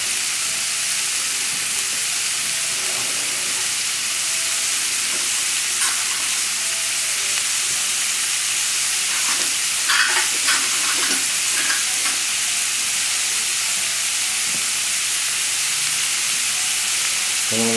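Vegetables sweat in a hot pan for a sea bass and saffron soup, giving a steady, close, continuous sizzle and hiss with a few soft clinks of stirring and no talking.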